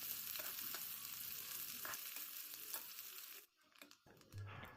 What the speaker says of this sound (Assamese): পিঁয়াজখিনি অলপমান ৰঙচুৱা হোৱালৈকে ভাজি থাকিম